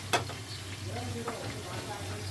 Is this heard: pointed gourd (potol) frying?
yes